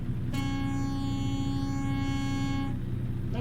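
Truck air horn in an American trucking simulator game, a single sustained loud blast of steady tones lasting about two and a half seconds over a constant low engine rumble.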